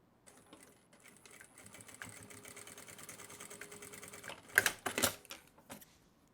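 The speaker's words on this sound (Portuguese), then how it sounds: "eu vou passar uma costurinha aqui, ó, para poder fazer uma costura de segurança mesmo" A sewing machine runs a steady stitching chatter along a bag strap, a quiet mechanical whir that swells into louder, faster bursts near the end, heard close with no voices.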